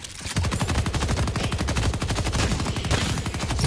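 Rapid automatic turret fire in a video game, a dense, steady burst of gunshots that runs loud and unbroken throughout with no voices over it.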